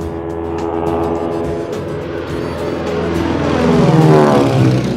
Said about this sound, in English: We are a flight of 5 seaplanes